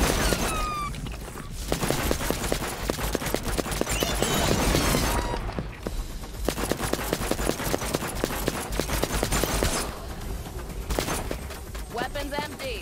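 Gunfire in the shooter game Superior comes as rapid, dense bursts of shots that run almost without pause, loud and up close, while someone talks over the shooting.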